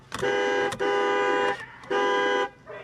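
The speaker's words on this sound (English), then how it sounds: "Beeping his horn, it's not working." A car horn honks three times in long blasts, with a short tap at the end, loud and fairly close, sounded at a dog attacking a mail carrier.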